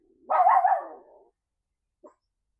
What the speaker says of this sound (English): You don't need to bark at Janelle, okay?